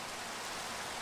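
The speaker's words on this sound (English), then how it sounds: "And we have some rain." Steady rain falling in the Minecraft video game, a dense continuous hiss with no breaks, fairly quiet and alone.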